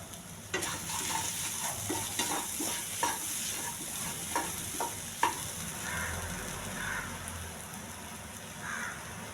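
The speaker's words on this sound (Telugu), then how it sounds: "దొండకాయ ఫ్రై చేస్తున్నానండి." Thinly sliced ivy gourd fries with onions, curry leaves, cumin and a little oil, a close sizzle broken by repeated scraping stir strokes early on, then settling into a steadier hiss.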